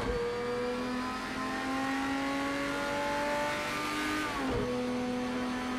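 A race car engine in a racing video game revs loudly and steadily, its pitch climbing through the gears with a brief drop at a shift near the end, alone with no talk over it.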